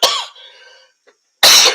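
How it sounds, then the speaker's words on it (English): Two harsh, close coughs from a person, one burst right at the start and another near the end, separated by a brief quiet stretch with a faint throat sound. "Sorry, me and my coughing."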